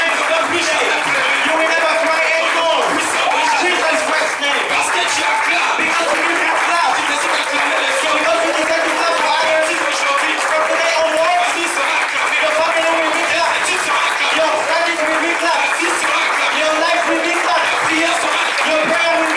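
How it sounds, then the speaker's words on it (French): A church congregation at a French-English sermon claps steadily and continuously, a loud, sustained layer of hand claps blended with voices and crowd noise throughout. "It's a time of clapping for you."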